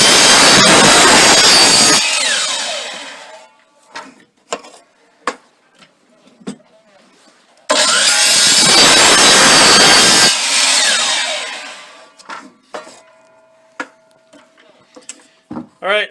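A hand saw cuts a length of wood into 3-inch pieces for homemade maple sap holders. Two loud bursts of rasping strokes are separated by quieter knocks and clatter as pieces are handled.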